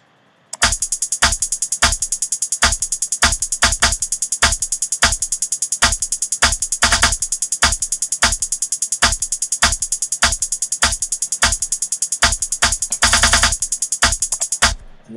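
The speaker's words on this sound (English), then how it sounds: "I made a second percussion pattern for the chorus, and this is what it sounds like." Percussion pattern for a chorus, programmed in FL Studio 10, with sharp, bright hits repeating in a fast, steady groove, loud and dry with no voices.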